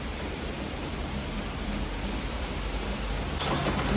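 Steady hissing rain pours down in Ahmedabad without pause, a dense even wash of noise that swells slightly near the end.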